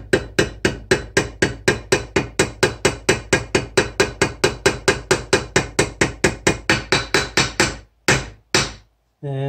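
A 10 mm punch is tapped against a part of a rebuilt Airhead motorcycle starter, producing a long run of quick, evenly spaced metallic hammer taps, close and crisp, ending with a few separated strikes.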